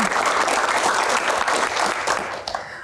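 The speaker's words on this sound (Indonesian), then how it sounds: "tepuk tangan anak kolong" Dense crowd applause at a Q&A event, steady and loud throughout before tapering slightly near the end.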